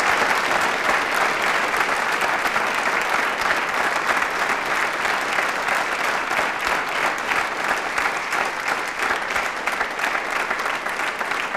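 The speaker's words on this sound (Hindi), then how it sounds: "आप अपने लिए तालियां बजाइए एक बार जोरदार" Loud, sustained applause from a student audience fills a quiz show studio, dense steady clapping with no break for over ten seconds.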